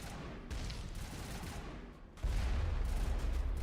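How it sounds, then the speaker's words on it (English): Faint, distant pistol gunfire in the sci-fi shooter Mass Effect, a muffled stream of shots and combat noise that swells louder partway through. "I'm using a pistol."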